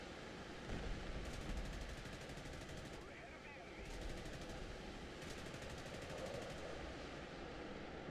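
Undermounted guns on a Vampire FB 52A jet firing in the War Thunder video game, in several rapid bursts set low under steady engine roar.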